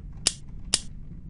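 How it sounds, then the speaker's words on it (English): Two quick, crisp mechanical clicks, evenly spaced, of a gun reloading in the video game Escape the Bunker: 1944, faint over a low background hum. "I'm guessing that's the sound of reloading."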